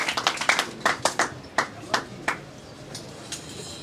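A small group claps for a guest at a film launch event, a run of sharp, separate hand claps that thin out and fade toward the end.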